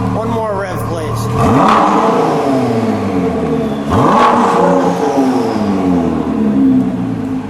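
A white 2017 Ford GT with a twin-turbo V6 revs loudly twice, each throttle blip rising to a roaring peak and then settling back to a rumbling idle, with voices talking close by.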